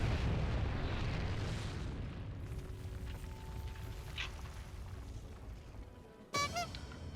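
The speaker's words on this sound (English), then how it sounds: "that's a bomb" A bomb explodes in Final Fantasy XIV, a broad rumbling boom that fades slowly into quieter game ambience, then a sharp bright chime-like hit near the end.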